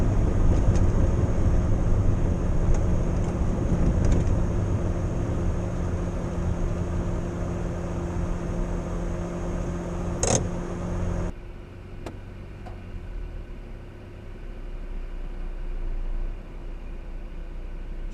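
A Morris Minor car engine idling steadily nearby with a low, even hum on a wet day, a brief clunk partway through and the tone dropping quieter after it.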